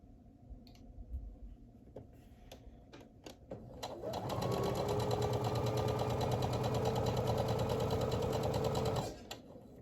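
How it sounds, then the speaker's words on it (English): A sewing machine chain stitching light blue and white fabric: a few scattered clicks, then a steady, loud mechanical whir that runs evenly for about five seconds before stopping abruptly. "I like to chain stitch just to make things a little quicker"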